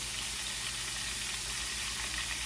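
Salmon fries steadily in a pan of oil, a close, even, hissing sizzle with no break or distinct flip sound across the short stretch.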